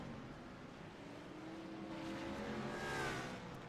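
Stock race cars roar through the tri-oval at Daytona in a dense, distant pack, their engines building to a swelling whine as they pass, with no talking.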